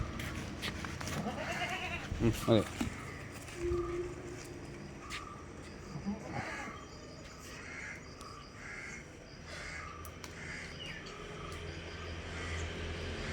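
Crossbreed dairy goats bleat a few times at a distance, faint and intermittent over quiet outdoor background noise.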